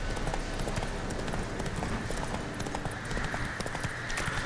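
Roach, a horse in The Witcher: Wild Hunt, gallops through a swampy area with steady rapid hoof clip-clops, close and loud over ambient game sound, with no voices.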